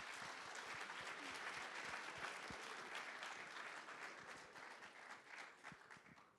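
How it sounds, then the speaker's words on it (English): An audience at the Cal Poly Pomona Bronco Startup Challenge finals gives steady, dense applause for the pitch presenters, filling the room and tapering slightly toward the end. "one last round of applause for everyone that pitched"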